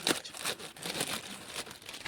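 Parcel packaging is handled and opened during an unboxing, with soft, continuous crinkling and tearing of plastic wrap close by at low volume, and no voices.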